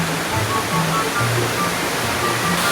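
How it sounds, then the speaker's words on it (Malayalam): Koorottupara waterfall on KK Road in Kodenchery, where several streams join into a river, rushing in a loud, dense, steady roar of falling water that fills the whole clip with no voices. "അപ്പം ഏതായാലും നല്ലൊരു വെള്ളച്ചാട്ടമാണ് കൂരോട്ടുപാറ"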